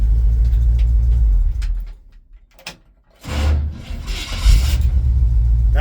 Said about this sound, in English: So it's got a kind of exhaust, a little bit of aggressive sound.